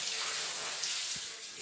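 Water runs continuously as a soft, even hiss, close and fairly faint, with a brief low knock near the end.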